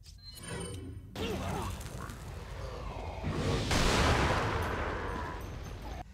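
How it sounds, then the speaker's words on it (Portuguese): Gunfire and crashing impacts in a Resident Evil mod game, with a loud burst midway that swells into a heavy, sustained blast and fades toward the end. "Que tiro foda, né?"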